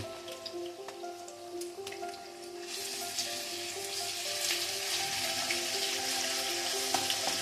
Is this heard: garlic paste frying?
yes